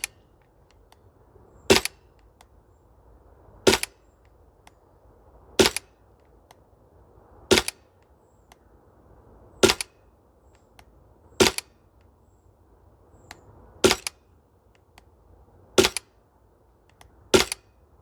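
A Maruyama MP9 gas airsoft gun fires single shots in cold weather on an outdoor range, nine sharp cracks spaced about two seconds apart in a steady rhythm, each clear and close against quiet background.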